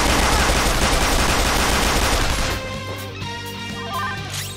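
Rapid gunfire in the Persona 5 Royal battle in the Ship Palace, a dense burst of shots for about two and a half seconds followed by ringing musical game effects, with no voices.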